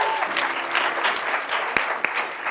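An audience at a conference plenary session applauds to welcome a performing group, sustained clapping throughout with a couple of sharp louder claps near the end and faint voices beneath.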